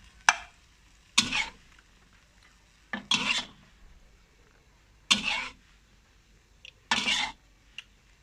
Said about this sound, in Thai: เดี๋ยวเราปิดแก๊สแล้วเราก็เอาใส่จานเลยนะฮะ ตักใส่จานเลยนะครับ